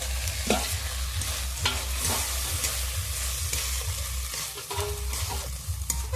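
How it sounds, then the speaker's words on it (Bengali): Fried okra is stirred into a cooked spice masala in a pan, with a loud continuous sizzle broken by repeated spatula scrapes and knocks against the pan at an uneven rhythm, close up, with no voices. "ভেন্ডিটাকে দিয়ে ভালো করে নেড়ে চেড়ে আমি কষিয়ে নেব।"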